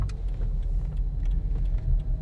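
Car engine revving as the driver presses the accelerator during a left turn, a steady low rumble rising and falling close by, with no talking.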